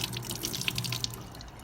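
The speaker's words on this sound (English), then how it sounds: "I'm going to wring it out." Wet foam air filter from a 2000 Suzuki RM125 squeezed by hand, water splashing and trickling close up in a short continuous gush with soft drips, no talking.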